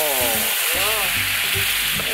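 Loud, steady sizzling of Korean spicy chicken dakgalbi frying in a hot pan, a constant crackling hiss with faint stirring and a voice briefly heard underneath.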